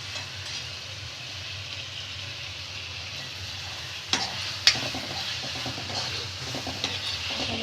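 Ginger-garlic-chili paste and whole spices are stirred in a pan for chicken sukka. A continuous hiss of frying runs under scraping strokes, with a couple of sharp clinks of the spoon against the pan midway.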